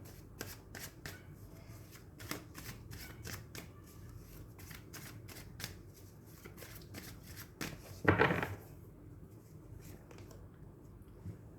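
Tarot cards being shuffled by hand in a series of crisp, rapid riffles and flicks, close and fairly quiet, with one louder riffle near the end.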